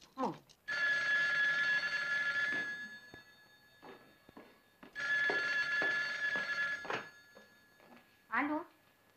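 A telephone rings in two long electronic bursts separated by a pause, fairly close, with brief bits of voices and movement in between the rings.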